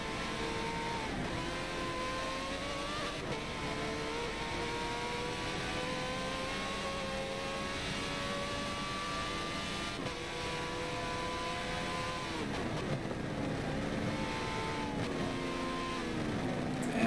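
A Ferrari race car in a Le Mans endurance racing video game runs over curbs, its engine whining steadily with rising and falling pitch as it shifts gears, joined by other cars' engines and faint thumps from the curbs.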